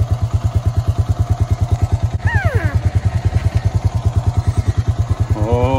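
A motorcycle engine idling close by with a steady, fast thumping beat, with brief high voices over it.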